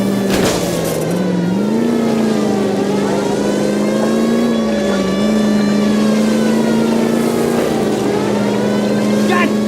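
Loud, continuous car engine droning and revving during a video game car chase in L.A. Noire, pitch rising and dipping with the throttle, heard close and steady, with voices talking over it.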